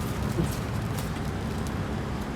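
Steady heavy rain hisses evenly throughout, a dense wash of noise with no pauses, during a motorcycle ride from Dasmariñas to Manila.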